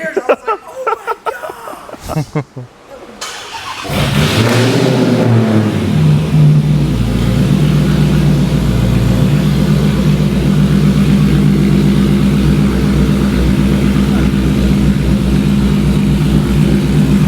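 A Dodge Challenger Hellcat-powered Magnum roars up into a loud, sustained rev and then holds a heavy, droning engine note close by for the remaining seconds, after a brief burst of laughter and noise at the start.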